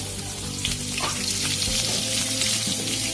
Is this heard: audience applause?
no